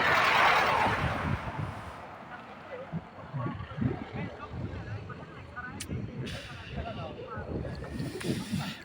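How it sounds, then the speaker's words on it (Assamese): Cold wind gusting on a hill road between Guwahati and Shillong, buffeting the microphone with low rumble, strongest at the start, while someone talks steadily over it. "ঠাণ্ডা ঠাণ্ডা বতাহ আহি আছে"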